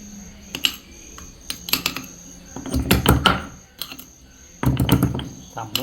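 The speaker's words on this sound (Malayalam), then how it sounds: "അങ്ങനെ ഉള്ളി പൊടി പൊടിയായിട്ട് അരിയുകയാണ്." Onion chopped finely with a knife, with bursts of rapid, crisp tapping on a board in uneven clusters and pauses, close by, while people talk.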